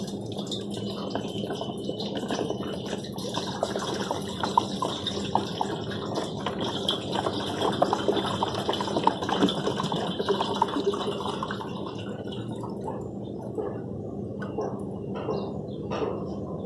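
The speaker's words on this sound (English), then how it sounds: "I'm adding water in it and I will be putting cut pieces of paper directly into it." Water poured into a container for soaking paper to make handmade recycled paper pulp, a continuous close trickling and splashing with small drips, alone and without speech, thinning toward the end.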